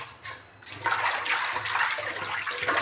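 A vessel washed under running water, heard as a loud, close rush of water that starts after a short pause and continues steadily to the end, with no talking.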